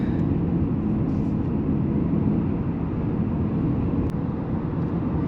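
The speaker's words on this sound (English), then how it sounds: "the only thing I can feel is basically the tire noise or the chassis noise from underneath" Steady low road roar and tire hum from underneath, heard from inside a 2024 Haval H6 2.0T Premium cruising on a country road, an even, continuous drone with a brief faint click partway through and no talking.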